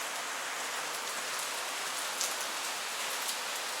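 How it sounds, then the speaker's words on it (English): Heavy cyclone rain pours down steadily, a dense, even hiss with no pauses, close and loud. "It's raining cats and dogs"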